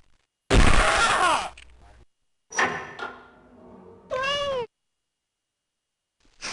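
A cat gives one loud, clear meow near the end. Before it come a few loud, noisy bursts and thuds in a comedy sketch.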